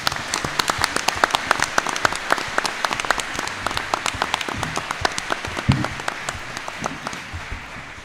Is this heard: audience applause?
yes